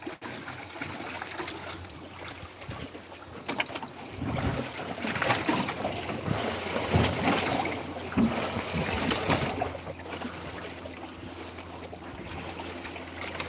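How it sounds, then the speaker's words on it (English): Paddles stroke through ocean water beside a small fishing boat, with splashing and trickling sounds rising and falling over steady outdoor wind noise. "I'm going to get out the back here, hold on there, and start paddling away."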